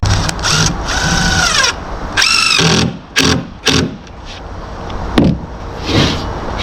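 A power drill drives a screw into a wooden ramp in bursts of whirring, with several stop-start runs of the motor and short pauses between them, close and loud.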